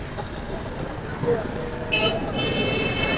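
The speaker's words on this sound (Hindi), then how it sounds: "गाड़ी जा रही है" A vehicle passes on a street in Pakistan amid steady traffic rumble, with a brief horn toot partway through and people talking nearby.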